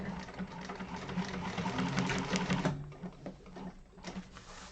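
A sewing machine hums in a steady, rapid stitch while sewing a Yoshi sling bag during a class, the run slowing and breaking up toward the end, with no talking.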